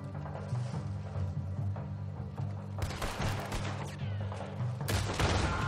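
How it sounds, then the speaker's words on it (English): Shotgun blasts in Red Dead Redemption 2 crack out in a couple of loud, sharp bursts over a busy game background, the shots spaced a few seconds apart and sounding close. "It's just a hair trigger on the shotgun."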